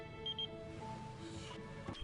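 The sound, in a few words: pager beeping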